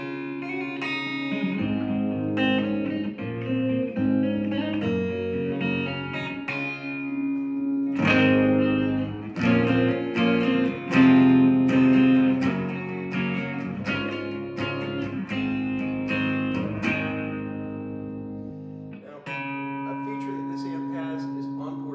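A guitar plays clean tones through a small practice amp with reverb, giving a run of ringing chords and single notes with a lingering, spacious tail.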